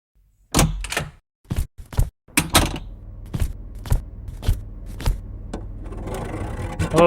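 A broken door being forced open indoors: a string of sharp bangs, thumps and knocks in uneven rhythm, close and loud, ending in a scraping rattle as it gives way, with no talking.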